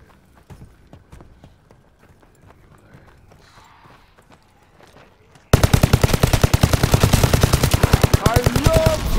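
Automatic fire from an AKM rifle in Call of Duty: after a quiet lead-in of small clicks and footsteps, a loud, sustained burst of rapid gunshots in a fast steady rhythm fills the remaining seconds.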